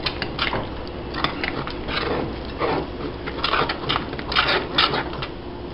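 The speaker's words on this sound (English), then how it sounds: "you're going to go ahead and mix this all around" Chile relleno filling being stirred with vegetable oil in a bowl, giving a run of quick scraping clinks and taps of a utensil against the bowl, irregular and close, fairly soft.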